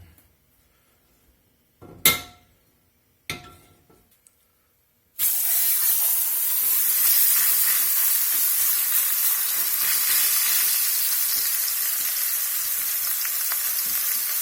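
Beef dropped into a pot of hot high-smoke-point oil, bursting into loud, steady sizzling and frying after a few clinks of utensils on cookware, heard up close with no talking.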